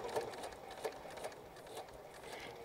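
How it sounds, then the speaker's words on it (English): Close, quiet sewing machine stitching in reverse, with a few rapid bursts of needle chatter under a steady whir while fabric is worked, no voices. "I remove my little pin here and I do my reverse stitch."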